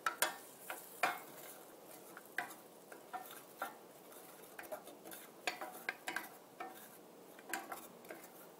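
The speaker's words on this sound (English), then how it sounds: "Give it a stir to break up all that butter." Butter and pepper are stirred in a pot, with faint, irregular clinks and scrapes of a utensil against the metal, spaced over several seconds in a quiet kitchen.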